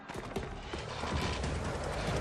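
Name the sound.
horse hooves clip-clopping in a video game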